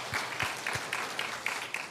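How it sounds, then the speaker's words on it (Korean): A church congregation applauding during a Sunday worship service, fairly faint, a short spell of scattered claps with distinct individual hand strikes. "하나님께 영광의 박수 올려드리겠습니다"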